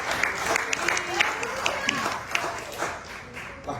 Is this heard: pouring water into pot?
no